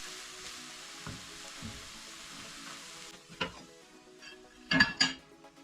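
Stir-fried eggs with corn sizzling in a pan on the stove, a steady quiet frying hiss broken by a few spatula scrapes and clinks, with a brighter clatter near the end as the eggs are flipped.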